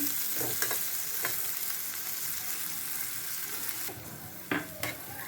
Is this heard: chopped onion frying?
yes